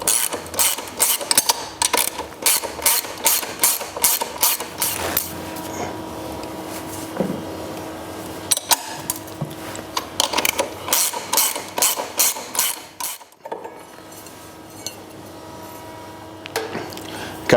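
A rear sprocket comes off a Can-Am DS450X dirt bike as a ratchet wrench clicks in fast, steady bursts, pausing and resuming, close and clear with faint metallic tool sounds between and no talking.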